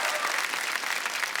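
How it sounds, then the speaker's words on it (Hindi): Studio audience of a comedy talk show bursting into loud, dense clapping for a guest named Sunny, a full sustained roar of hands throughout. "सनी के लिए जोरदार तालियां हो जाए"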